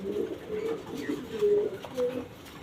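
Sweetail doves in a cage cooing nearby, a few soft, low, drawn-out coos repeating steadily over faint background noise.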